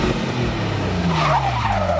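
A Lotus Tri-Fuel Exige 270E flex-fuel sports car skids, tires squealing in loud sweeping whines over a roaring engine, close and continuous for two seconds without talk.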